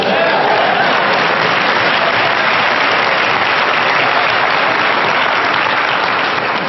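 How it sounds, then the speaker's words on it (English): Loud, dense audience applause filling the whole stretch at a motivational talk, a continuous wash of many hands clapping at once with no gaps. "Come on, clap."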